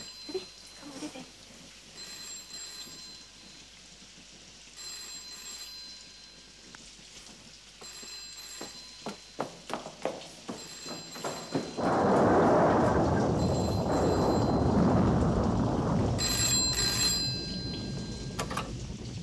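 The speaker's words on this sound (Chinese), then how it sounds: "或者呢个电话系爸爸打翻嚟咧？" A telephone rings indoors in a 1981 Hong Kong drama, several spaced bursts of bright electric bell tones, while softer clatter and steps build before a louder rushing noise takes over near the end.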